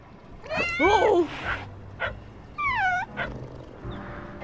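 Dog and cat sounds in the video game Little Kitty, Big City: a cluster of whining, yelping animal cries early on, then a second shorter rising-falling whine, with quiet game ambience between them.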